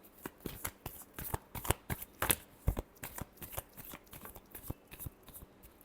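Tarot cards are shuffled by hand at close range, a quick run of crisp riffling flicks and soft slaps in an irregular rhythm, quiet and with no talking.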